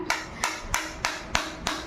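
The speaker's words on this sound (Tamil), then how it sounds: "மரக்கட்டை சுத்தியல் இல்லாதனால இந்த பைப்பை வச்சே நாங்கள் அடிச்சுக்கிட்டோம்" Garden stand pipes struck together with another metal pipe, giving six evenly spaced, sharp, ringing taps close to the microphone with quiet gaps between them.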